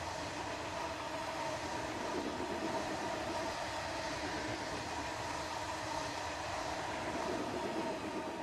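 MWA freight wagons in a Freightliner consist roll past in Train Simulator Classic, a steady, loud rumble of wheels on rail with a continuous grinding drone and faint rhythmic clatter, no voices.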